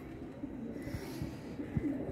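Royal Teddy pigeons, a cock and hen, give soft low coos in a short series of pulses against steady background hum, with a slightly louder coo near the end.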